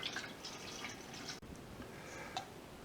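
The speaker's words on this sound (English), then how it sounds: "So in goes the last of the milk." Milk with 4.6% butterfat poured into a pot for making Gouda cheese, a faint close trickling and dripping of liquid with soft splashes and no talk.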